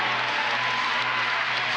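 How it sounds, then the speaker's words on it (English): A volleyball arena crowd at an NCAA women's match between Purdue and Kansas erupts in loud, steady cheering and applause, a dense roar filling the space with no break. "You could hear that one. The crowd seeing it on the big screen here"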